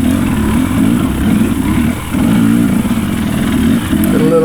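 KTM enduro dirt bike racing a hare scramble, its engine loud and close throughout, holding a steady high drone with a short dip in revs near the middle before pulling hard again, no voices over it.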